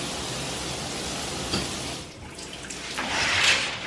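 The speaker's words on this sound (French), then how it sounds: "je saute dans la douche tout de suite" A running shower gives a continuous spray of water that swells and shifts briefly as the flow changes, close and fairly loud, with no voices.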